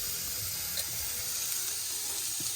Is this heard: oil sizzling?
yes